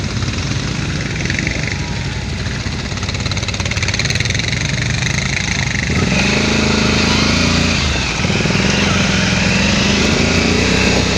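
A Can-Am Renegade 570 XMR ATV engine drones loudly and close while riding through a muddy hole, revving and varying in pitch with a rough mechanical rumble.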